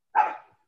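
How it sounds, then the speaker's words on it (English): A dog gives a single short bark, heard clearly and fairly close, followed by silence. "I hear your"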